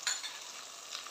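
Green chillies are stirred into cauliflower sabzi frying in a pan, heard as one quick scrape followed by a soft, faint sizzle.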